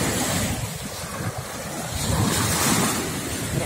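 Rough sea surf at Divnomorskoye rolls and crashes steadily, a broad continuous wash of waves with wind buffeting the microphone and no voices.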